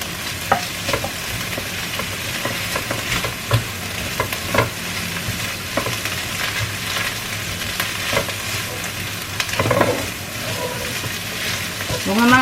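Bitter gourd is stirred and fried with salted eggs in a pan, giving a steady sizzle with repeated scraping and clinking from the utensil. The sound is close and continuous, with a voice speaking faintly at times.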